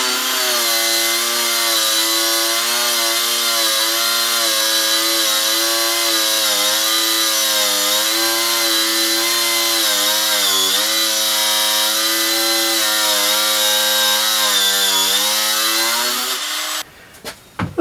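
A Parkside cordless angle grinder spins at speed setting 6, a loud, steady high-pitched whine with a dense harmonic drone that holds nearly unchanged for about sixteen seconds before spinning down abruptly.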